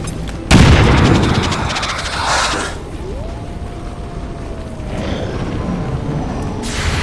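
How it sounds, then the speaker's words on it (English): A sudden heavy bomb blast in XCOM 2 erupts loud and close, then rumbles and fades, followed by a gliding mechanical whine and a second, softer burst near the end. "Bombs away!"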